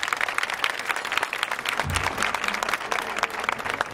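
A small audience gives a dense burst of clapping, steady and fairly close throughout, with a few faint murmurs underneath.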